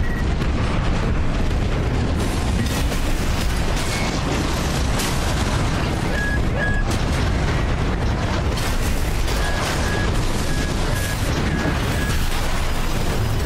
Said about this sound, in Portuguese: Nossa, fui destruído com um tiro.